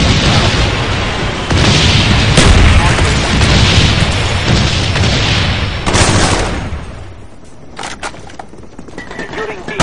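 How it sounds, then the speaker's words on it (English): Carpet bombing in Black Ops: several seconds of heavy, overlapping explosions and rumbling booms, loud and dense, then fading into scattered smaller pops and crackles, with a voice speaking over it. "Enemy carpet bomb inbound."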